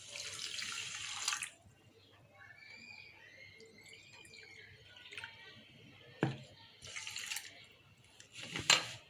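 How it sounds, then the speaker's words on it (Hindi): Water splashing and trickling into a pan with one cup of sugar for sugar syrup, a broad hissing pour at the start with intermittent dribbles and splashes through the rest, close and fairly quiet. "पानी डाल दिया।"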